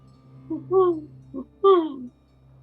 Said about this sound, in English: Seems to be an owl.